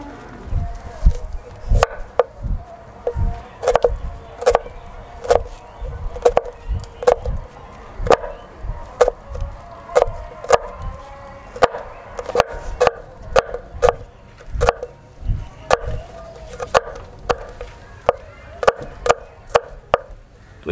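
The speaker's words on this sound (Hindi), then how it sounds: "तो इस तरह हम सारे के सारे प्याज जो है वो काट लेंगे।" Knife strikes on a board as spring onions are chopped in a village kitchen, a long run of sharp, close chops in an uneven rhythm, with a dog barking faintly in the background.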